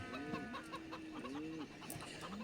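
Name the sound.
chickens clucking in a video game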